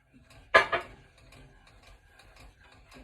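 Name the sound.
stirring gravy with a spoon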